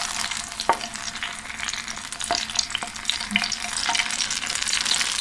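Hot oil poured over grated carrot and red pepper for a carrot salad sizzles and crackles steadily at close range, with scattered sharp pops throughout and no talking.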